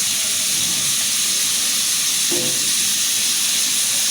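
Ginger garlic paste sizzles steadily in a hot pan as an Egg recipe with rice and pumpkin begins, a constant broadband hiss with a brief louder burst midway, close and without talk.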